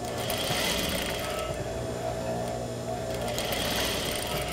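A sewing machine runs steadily while stitching a flat felled seam at a 3/4 inch seam allowance, a continuous close motor whir with rapid needle chatter throughout.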